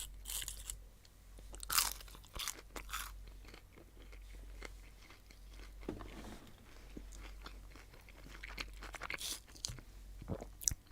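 Crunchy McDonald's McNuggets are bitten and chewed close to the mic, giving loud, crisp crunches in irregular bursts with quieter chewing between them.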